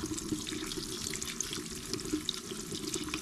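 Running tap water pours steadily while mushrooms are rinsed at a sink, a continuous close splashing hiss with faint drips and no talk.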